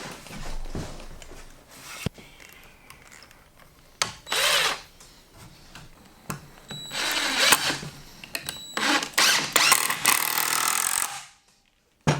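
Power driver sinking screws into the corners of a laundry room frame held by clamps, in several loud whirring bursts of varying length, close by, with clanks and handling noises between them.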